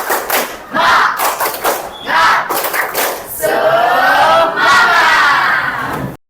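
A class of students performs a loud rhythmic clapping chant, with thudding claps in a steady beat under shouted, sung voices that swell toward the end before cutting off.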